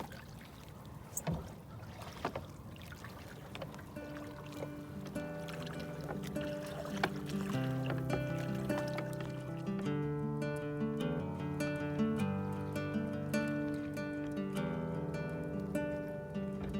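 A sailboat is sculled with an oar across a calm harbor with no wind, giving soft water sloshing and faint creaks, with tonal ringing layered over the quiet, steady background.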